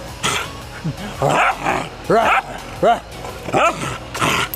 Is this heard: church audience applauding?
no